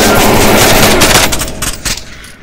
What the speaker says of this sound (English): they opened fire, so expect a lot of activity